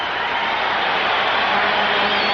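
Packed home crowd at an Edmonton Oilers ice hockey game during the 1984 Stanley Cup Final against the Islanders, a loud, dense, unbroken roar of cheering that fills the arena throughout.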